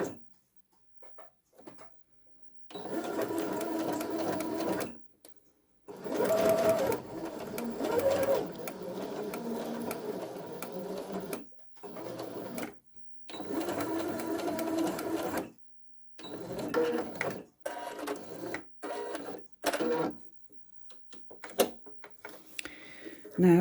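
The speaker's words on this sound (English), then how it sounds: "add the cotton webbing onto the back of it, and using a 1/4 inch foot I'm going to do a 1/4 inch seam." A sewing machine with a 1/4 inch foot stitches a seam joining cotton webbing to fabric for a bag strap, whirring in several bursts of a few seconds each, separated by silent pauses, close and fairly loud.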